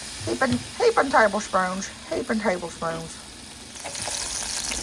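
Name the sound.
garlic frying in a pan for cauliflower fried rice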